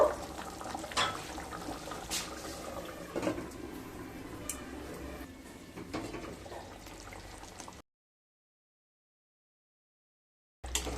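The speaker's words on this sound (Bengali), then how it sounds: "তরকারিটা ফুটে এসছে, এবার ঢাকা দিয়ে মিডিয়াম স্টিমে 5 মিনিট রান্না করে নেব।" Egg curry simmers gently in a covered pan, giving a soft, continuous bubbling and burbling heard up close at low volume. The sound cuts out into silence for a few seconds, then briefly resumes.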